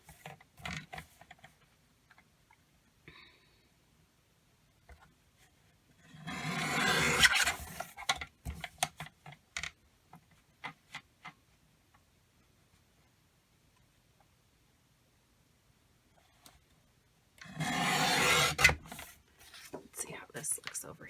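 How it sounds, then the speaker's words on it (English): Material for a planner cover is trimmed by hand, giving two longer rasping cutting bursts separated by quiet stretches dotted with small ticks and soft handling noises, with low, hushed talk between. "I'll go ahead and trim this one."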